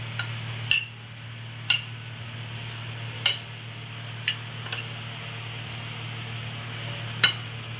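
A spoon clinks against a bowl while tossing crispy French fries in chaat masala, giving about seven sharp, separate taps spread over a steady low hum, with no talking.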